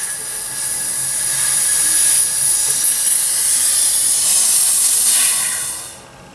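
Air hisses steadily out of a resin bubble removal vacuum chamber as its valve is opened, a loud broad rush that holds for about five seconds and then tapers off to quiet.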